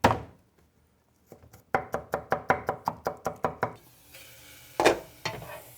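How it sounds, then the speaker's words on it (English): A knife chops garlic on a cutting board for gimbap filling: about a dozen quick, evenly spaced knocks in a burst, then a pause and a couple of louder isolated strikes, close and clear with no talking. "Mince my garlic"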